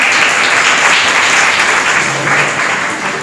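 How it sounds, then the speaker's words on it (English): Steady audience applause at a confidence building program, a dense continuous clapping that stays loud throughout and eases slightly near the end. "Clap."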